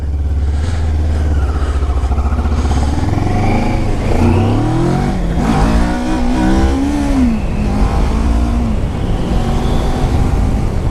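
Motorcycle engine accelerating while riding, loud and close, the revs climbing through the gears with rising and falling pitch, steady road and wind noise underneath.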